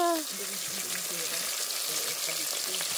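Tilapia frying in a pan at a Laguna farm home: a steady, close crackling sizzle that runs throughout, with a brief voice at the very start.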